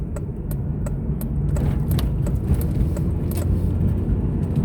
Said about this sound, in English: I don't know how I'm going to survive this car out here. It's so bumpy.